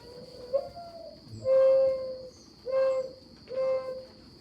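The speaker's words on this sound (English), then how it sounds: "So let's do, this is our last. Mourning dove." A recorded mourning dove call plays as a series of soft, low, hollow cooing notes. One short note leads into three drawn-out coos, all clear and moderately loud over a faint steady hum, with no talking.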